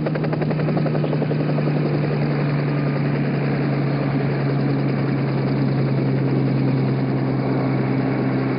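The Apollo 11 retrieval helicopter hovers over the ocean after splashdown, a loud continuous rotor thrum and engine drone with a steady pulsing beat throughout.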